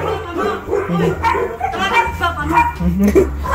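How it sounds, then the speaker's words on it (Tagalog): A house dog barks and yips in short bursts at a roadside home in the Philippines, close by, over steady talk. "Ganyan yung aso nila, oh."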